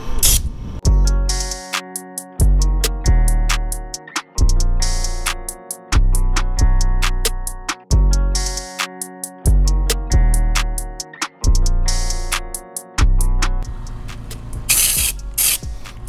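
SecondSkin Spectrum coating is sprayed inside a truck in repeated loud hissing bursts from a spray gun, each lasting about a second with brief pauses between them, close and alone.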